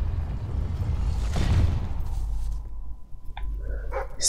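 A dog in the video game Fable III barks in a short burst near the middle, set over a steady low game-world hum, with a few faint higher sound effects toward the end.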